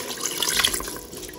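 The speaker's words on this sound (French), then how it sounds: "On va ajouter aussitôt 300 ml d'eau." Hot water poured into a Cookeo multicooker pot for chicken karahi, 300 ml in one steady splashing, gurgling stream, close and fairly loud, with no voices.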